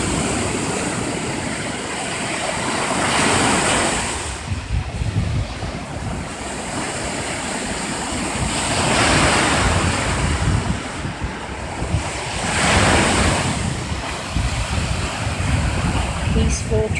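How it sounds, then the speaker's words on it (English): Ocean waves roll onto a beach at Vero Beach, Florida, in slow repeating surges, each swell rising and washing back, with steady wind rushing against the microphone. "I'll be quiet for a few minutes so that you can enjoy the sound of the waves."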